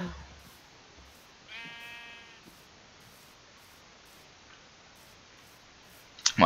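A single sheep bleat from the Minecraft video game, a short wavering call heard once in a quiet scene with faint clicks and soft ticking around it.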